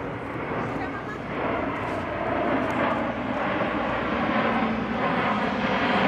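A Boeing C-17 Globemaster III military transport jet passes overhead at an air show in Oregon, a steady broad roar that swells slightly and holds, with a voice talking over it.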